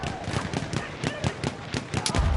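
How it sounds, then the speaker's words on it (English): Explosions and gunfire boom through a bunker in a multiplayer shooter video game, a rapid run of sharp cracks and blasts, loud and dense, with faint talk beneath. "There's some major explosions going on in the bunker."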